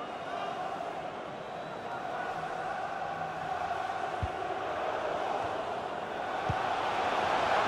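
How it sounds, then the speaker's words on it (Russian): A distant stadium crowd roars and chants in a broad continuous wash at the Emirates Stadium during Arsenal vs West Ham United, with a couple of faint thumps cutting through the steady noise. "На Эмирейтс сейчас очень хорошо слышно, как болельщики не хотят проигрывать и гонят свою команду вперед"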